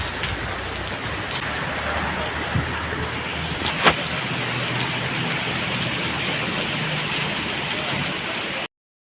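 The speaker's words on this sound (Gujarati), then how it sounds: "વરસાદ સાથે વાવાઝોડું આવી ગયું છે" Steady, heavy rain pours down during a windstorm in a Gujarati village, a continuous loud hiss with a couple of sharper knocks and gusts partway through, then it cuts off abruptly.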